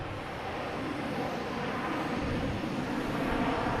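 A Lufthansa airliner takes off from runway 9 at Boston Logan, its engines producing a broad, steady roar at a distance that swells slightly over a few seconds, with no talk.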